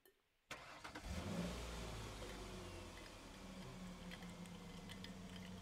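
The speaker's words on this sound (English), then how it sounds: "you're driving a noisy car full of school kids to the baseball diamonds on the edge of town" A noisy car full of school kids driving to baseball diamonds on the edge of town: engine noise kicks in abruptly and holds as a steady, loud, close rumble with a continuous interior drone.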